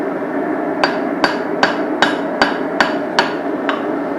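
A hammer is being forged, with eight sharp, evenly spaced strikes on hot steel ringing out at a steady rhythm over a constant background roar, likely a forge.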